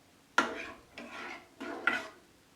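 Metal lid set onto a cooking pot of matar paneer gravy, giving three close scraping clanks about half a second apart, moderately loud with no talking.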